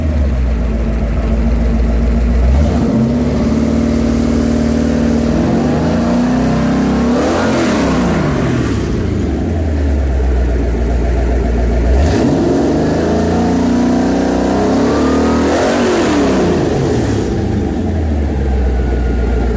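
A 408 cubic inch Ford stroker V8 with a roller cam, fitted in a 1967 Mustang, idles with a lumpy loud rumble and is revved several times, each rev swelling and falling back, close by.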